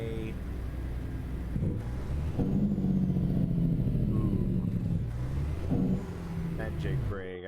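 A Freightliner FLD truck in American Truck Simulator rumbles with a deep, pulsing engine brake, a low throbbing drone that swells and shifts pitch over several seconds, with someone talking over it.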